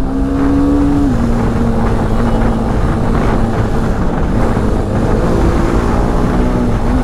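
A BMW is driven fast, its engine note rising in pitch as it accelerates and shifts, loud and close under heavy wind rush, with no talking.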